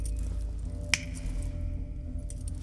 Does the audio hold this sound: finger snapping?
yes